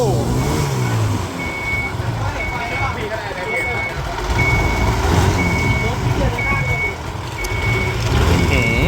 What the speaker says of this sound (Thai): มีเกียร์ถอยครับท่านผู้ชมโอ้โอ้